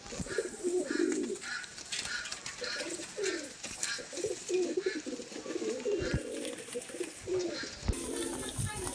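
Madrasi pigeons coo in soft, repeated throaty bursts across a rooftop loft, a layered flock murmuring close by with faint rustles and light background noise.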